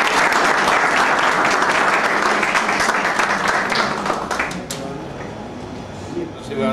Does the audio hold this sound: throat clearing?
no